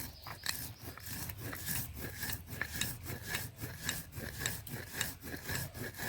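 Dried chili and cumin are ground together on a stone, a steady back-and-forth rubbing and scraping rhythm of repeated strokes, close and fairly quiet, with no talking.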